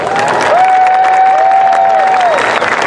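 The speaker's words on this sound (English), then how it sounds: "How about a big round of applause for our flyboarders?" Outdoor crowd at a military appreciation event applauds and cheers for flyboarders, loud continuous clapping with a sustained whistle-like tone sliding over it midway.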